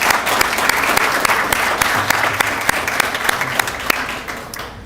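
A crowd claps at a virtual promotion ceremony, with dense, steady applause and a few sharper individual claps standing out, holding loud before tapering off at the end.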